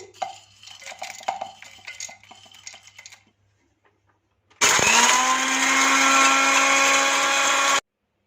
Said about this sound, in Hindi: जिसके बाद बारी आ गई कीकर की गोंद की। इसे ग्राइंड कर लेते हैं।